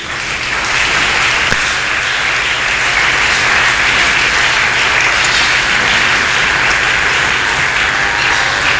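Congregation at a French-language revival church service applauding and cheering in praise of the Lord Jesus, a steady, dense wash of many clapping hands and voices sustained loudly throughout with no speech over it.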